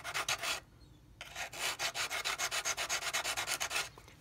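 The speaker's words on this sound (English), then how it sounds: "I'm using the flat file to make sure I'm getting right down to the edge of that and sanding it nice and flush" A flat file sands a brick flush with the edge of a building, giving a short burst of rubbing strokes, a pause, then a long run of quick, even rasping strokes close up.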